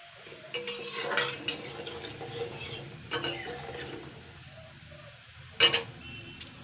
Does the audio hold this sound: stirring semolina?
yes